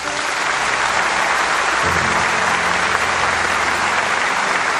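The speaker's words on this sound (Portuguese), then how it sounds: "Aplauda Jesus." A church congregation applauds Jesus, a thick, sustained wash of many hands clapping that fills the space evenly from start to finish, with a low murmur rising briefly underneath partway through.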